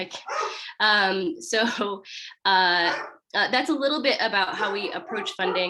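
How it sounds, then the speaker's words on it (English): Several household dogs bark in short, scattered bursts behind steady nearby speech, loud enough to break in between the speaker's phrases. "Excuse my dogs, they're very annoying."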